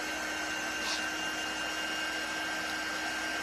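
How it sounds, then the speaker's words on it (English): A hair dryer runs close and steady to dry the paint on a flower painting, a constant even whir with a faint tonal hum and no talking. "So I'm just gonna hit it with the dryer just a little bit."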